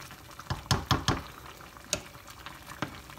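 Rice and peas simmering in a pot as the water boils off, giving a soft steady bubbling hiss with several sharper pops and spatters spread through the short stretch, fairly quiet and with no talking.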